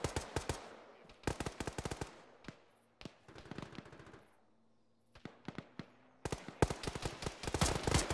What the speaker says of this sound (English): That's a biggish gun.